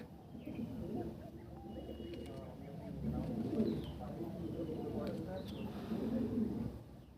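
Andhra pigeons kept at home coo softly, with low, rolling calls repeating close by beneath steady conversation between people.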